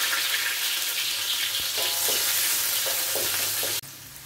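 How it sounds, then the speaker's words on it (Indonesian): Jengkol beans frying in a reduced amount of oil for sambal jengkol, a steady close sizzle with occasional stirring clatters, cutting off abruptly near the end. "Saya goreng itu jengkolnya ya."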